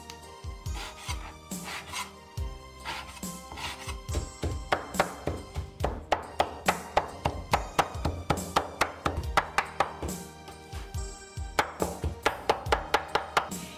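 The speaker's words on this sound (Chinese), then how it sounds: "羊肉洗干净后切成条，然后切成小块，最后剁成馅" Mutton being chopped into mince with a knife, a rapid run of sharp, close chopping strikes that grows steadier and louder, with background music underneath.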